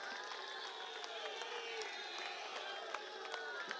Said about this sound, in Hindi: हमारे प्रत्याशी रामवीर विधुड़ी जी के लिए जोर से ताली बजाओ जरा।